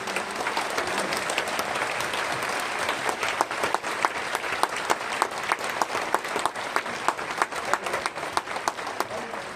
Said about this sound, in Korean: 세 분 나오실 때 큰 박수로 환영해 주시기 바랍니다